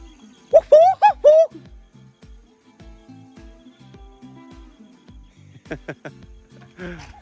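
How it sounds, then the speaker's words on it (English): Several bird calls ring out nearby at Yellow Water wetland, Kakadu, Australia: a burst of bright chirps, then a quieter series later, over a soft regular ticking pulse. "You can hear those birds?"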